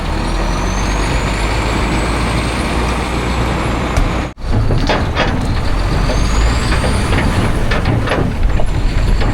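A truck pulling a trailer once its air brakes are released, a loud continuous engine rumble with a sharp air hiss partway through, then the engine keeps droning close by.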